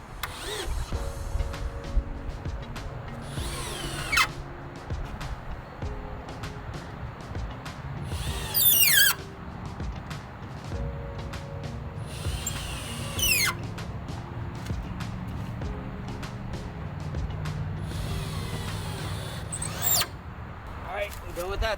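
A power driver sinks No. 8 1.5-inch screws into the rafters of a Yardistry 12x16 wooden gazebo, giving several short, rising whirring bursts spaced a few seconds apart over steady background music.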